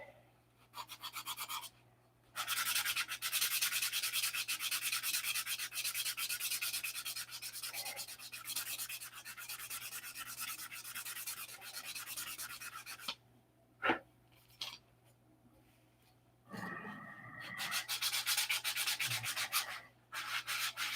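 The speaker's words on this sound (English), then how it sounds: "This gives you a little idea how easy superfill is to sand." Superfill filler being hand sanded with 180 grit sandpaper, a steady close scratchy rubbing that runs for long stretches, broken by a few short pauses and a sharp knock.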